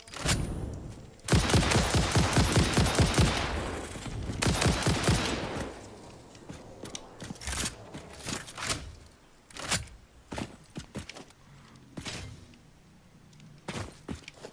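A rifle in the video game Satisfactory fires a rapid, loud burst of shots up close, followed by a scattered series of single sharp reports and thumps spaced over several seconds.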